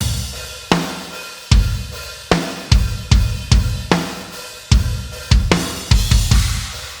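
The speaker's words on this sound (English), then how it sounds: "The drums sound like this." A drum kit in a mix plays a steady groove of punchy kick and snare hits, dry and close with no reverb, sharp attacks and short decays repeating in rhythm.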